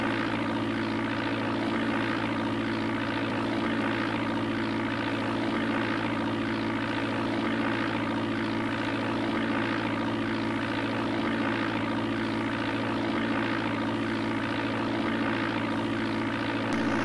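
Cessna propeller plane engine in the Flight Simulator 4 game, a constant droning hum that holds steady and unbroken at moderate loudness throughout.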